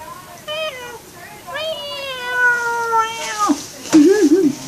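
Cats meowing up close at home, several drawn-out rising and falling meows in a row, ending in a wavering caterwaul-like cry.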